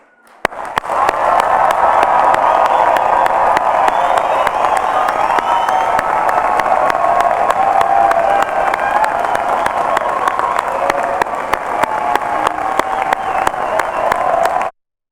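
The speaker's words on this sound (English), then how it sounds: "giving our wonderful graduates one huge last round of applause" Long, loud round of applause with cheering and whoops at a university degree ceremony, sustained and even for over ten seconds before stopping abruptly.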